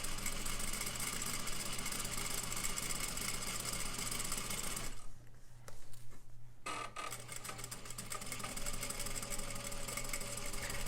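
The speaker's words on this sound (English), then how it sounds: "I'm going to sew my 1/4 inch seam all the way down." Sewing machine running a quarter-inch seam, a steady close mechanical whir with a constant motor hum and rapid needle rhythm, briefly pausing midway before resuming.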